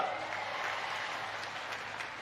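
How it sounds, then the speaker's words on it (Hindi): An audience at a political speech claps in a steady, dense burst of applause that holds at an even level throughout, with no voices standing out. "तालियां बजा के स्वागत करिए फिर सबका"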